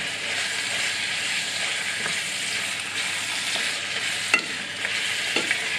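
Chilli con carne sizzles steadily in a pan, a constant frying hiss with occasional soft scrapes and clicks of a spoon stirring through the mince and sauce.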